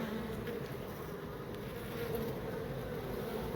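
Bees swarming around a hive built inside a brick pillar make a steady, dense buzzing drone that holds on without a break, heard close up and fairly loud, with no voices.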